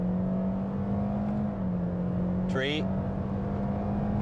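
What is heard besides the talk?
2016 Scion iM car accelerating at full throttle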